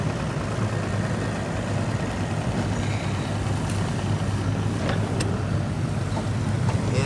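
A fishing boat's motor drones steadily as the boat heads out at a bass fishing tournament launch, a constant close engine rumble with faint splashes and background noise and no clear voices.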